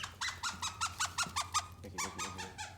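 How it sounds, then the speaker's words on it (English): A squeaky dog toy squeezed repeatedly, sharp close squeaks in a quick even rhythm of about a dozen pulses, no talking. "So, I got a squeaky toy. See what this does."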